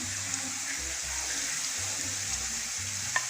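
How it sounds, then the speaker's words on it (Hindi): Peas, cabbage, capsicum and green chilli frying in a pan make a soft, steady sizzle with low rhythmic scraping from stirring and a small clink near the end. "इनको भी हल्का सा फ्राई कर लें।"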